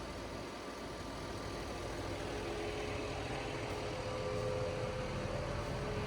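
A tractor engine idles steadily in a shed, a low continuous rumble with an even drone throughout and no speech.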